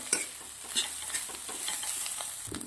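Coriander fried rice being sautéed in a pan, a utensil stirring and scraping in quick repeated strokes over a steady, close oil sizzle.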